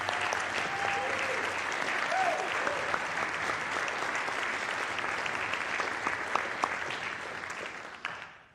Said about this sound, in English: Can you give them a round of applause as well?